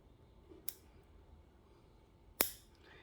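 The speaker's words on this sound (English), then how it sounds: "Or you can literally just come along here, cut, cut, cut. All the way along." Two crisp, isolated snips, about two seconds apart, as cutters trim the wire or branches of a banksia bonsai, heard close up against a quiet background.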